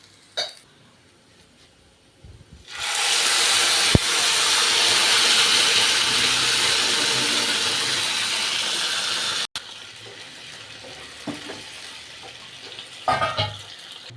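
Tamarind curry is poured into a hot pan of curry leaves, setting off a sudden loud hissing sizzle that holds for several seconds, then drops to a quieter bubbling with a few faint clinks.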